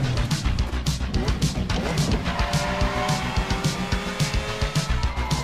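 A sports car, a Lamborghini or Ferrari, roars through a scene in the Kung Fury film: a loud, continuous engine drone with squealing tires, while people talk over it.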